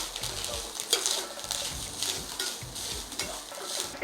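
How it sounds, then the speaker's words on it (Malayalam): Ginger curry is stirred steadily in a pan over a sizzling, frying background, with a rhythmic scraping pattern of close, continuous strokes. "ഇനി നമുക്കിത് ഇട്ട് കൊടുക്കാം. നമുക്ക് നന്നായിട്ടൊന്ന് ഇളക്കി"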